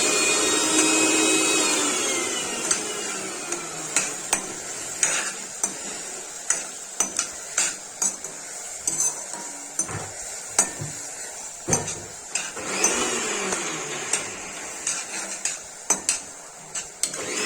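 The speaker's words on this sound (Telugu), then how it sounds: "పానికి కావాల్సిన ఐటమ్స్ అన్ని మిక్సీ పట్టుకుంటుంది" A kitchen mixer grinder whirs while grinding ingredients for pani puri water, its motor running in bursts with repeated clattering knocks and jar rattles, fairly close and moderate in level, no voices.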